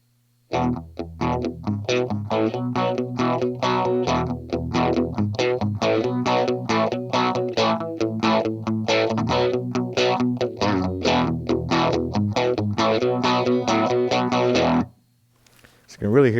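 An electric guitar plays through a TC Electronic Helix Phaser pedal, giving a swirling phase effect. Strummed and picked chords ring in a steady, moderately loud rhythm for about fourteen seconds, then stop.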